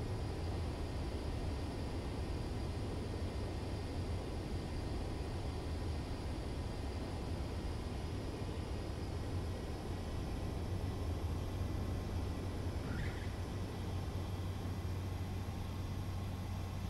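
An F-35 Lightning II stealth fighter lands in Ace Combat 7, heard as a steady, even jet roar with a low engine hum throughout and no distinct peaks.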